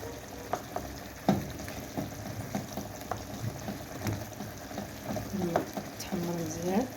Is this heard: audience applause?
no